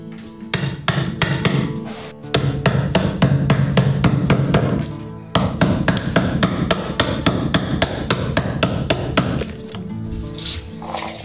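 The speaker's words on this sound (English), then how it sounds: "I'm cutting a notch into that part." Chisel struck repeatedly with a hammer, cutting a notch into a wooden horizontal member for winder stairs in Japanese woodworking; sharp, loud blows in a fast, even rhythm with two brief pauses.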